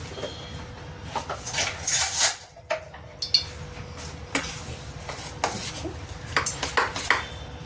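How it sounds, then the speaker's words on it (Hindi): Gwar fali kofte mixture with coriander and ginger-garlic paste being stirred in a metal bowl, scraping and clinking of a spoon against steel in irregular bursts, close by and fairly soft. "अब इसको हम मिक्स कर देंगे।"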